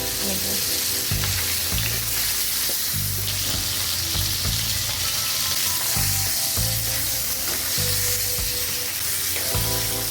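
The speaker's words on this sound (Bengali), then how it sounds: "বাকি মাছগুলো একইভাবে ভেজে নেব।" Tengra fish frying in hot oil gives a loud, dense, continuous sizzle with crackle and occasional stirring clatter throughout.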